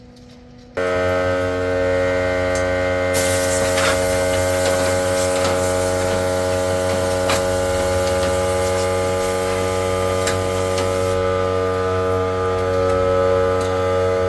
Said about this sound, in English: We'll grind it down.